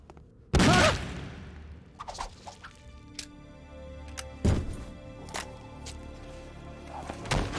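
A single gunshot goes off sharply in Metal Gear Solid 2's Tanker chapter, followed by a second heavy thump midway and faint metallic game ambience with small clicks throughout.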